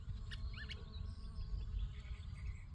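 Low, faint insect buzzing hums steadily outdoors, with a few brief chirps from birds over the drone.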